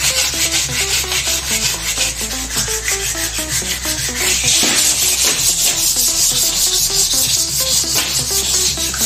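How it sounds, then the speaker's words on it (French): Continuous wet sanding of aluminium with a water sander, a steady close rasping rub with a rhythmic back-and-forth scrape throughout. "Voilà les gars, on ponce, hein."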